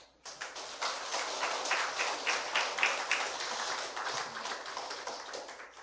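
A church congregation at a Sunday service claps warmly to welcome a missionary, a sustained, fairly loud patter of many hands that rises quickly and holds steady throughout.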